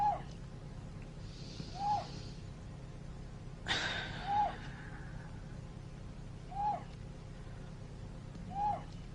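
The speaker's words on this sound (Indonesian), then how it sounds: "Kau dengar suara burung itu?" A bird calls at night, a short hooting note repeated about every two seconds at moderate distance, with one louder breathy sound midway and no talk.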